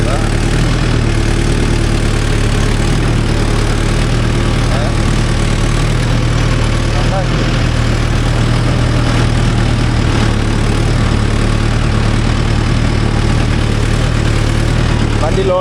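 A Mahindra Yuvo Tech Plus 575 4WD shuttle-gear tractor engine runs loudly and steadily in a field setting, a continuous close diesel drone with a strong low rumble throughout, with occasional voices beneath it.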